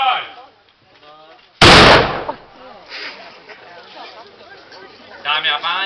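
At a castle demonstration, a 15th-century black powder gun fires one loud sharp blast. Voices talk before the shot, and excited crowd chatter and cheering follow it.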